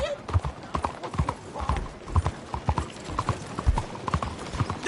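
Horse hooves clip-clop on the ground in Red Dead Redemption 2, a close and steady run of hoofbeats with uneven accents.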